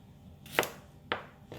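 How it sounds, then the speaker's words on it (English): A knife cuts half a peeled radish into thick slices on a board, three crisp, separate chops spaced about half a second apart, close and clear against a quiet background. "And then just cut it thick slices."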